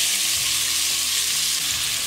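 Chopped onion frying in olive oil in a pan, giving a loud, continuous hiss and crackle with light stirring scrapes underneath, the sizzle steady and close throughout.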